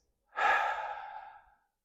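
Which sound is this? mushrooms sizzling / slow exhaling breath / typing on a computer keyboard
slow exhaling breath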